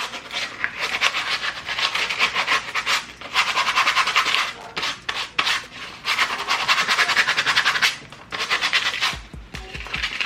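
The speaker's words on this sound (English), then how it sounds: "So just go ahead and watch me just do a little scuff here." Abrasive rubbing scuffs the surface of Crocs clogs in repeated short bursts of dry rasping strokes, close up with brief pauses between passes.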